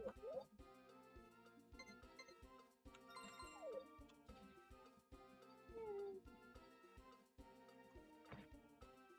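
Cat meowing in the Nintendo 64 farming game Harvest Moon 64, a few short synthesized meows scattered over bright, chiming background music, faint and game-like.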